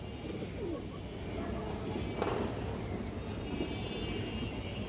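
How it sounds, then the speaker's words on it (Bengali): A large female Bagha pigeon coos softly a few times amid a steady, quiet background hum, with faint chirps and distant noise around it. "বড় সাইজের একটা বাঘা মাদি কবুতর আছে।"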